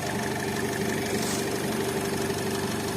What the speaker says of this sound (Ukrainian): у нас моторчик. Працює рівненько тихенько, без жодних зауважень.